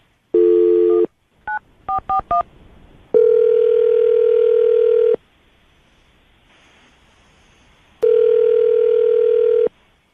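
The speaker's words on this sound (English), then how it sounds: "I'm going to dial the phone number right now, okay?" A landline phone is dialed with a quick series of keypad tones, followed by steady ringback tones that repeat with pauses, loud and close with no talking.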